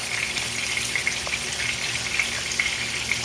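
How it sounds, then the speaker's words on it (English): Food frying in a pan for fish and cornbread, a steady close sizzle with scattered small pops throughout, no voices. "this just needs to sit and fry for a little bit"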